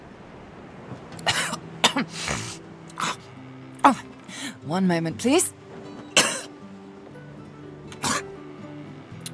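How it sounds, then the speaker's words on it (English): A character in the video game Divinity Original Sin 2 retches and coughs in several harsh, loud bursts, with strained gagging sounds in between, and a voice speaks briefly among them. "Malady explodes in a fit of retching that racks her body."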